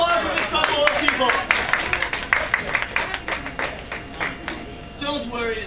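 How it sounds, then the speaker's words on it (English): Audience clapping for two volunteers called up on stage at a live show, a lively patter of hands that rises and tapers off, with a host's voice talking over it. "Round of applause for this couple of people."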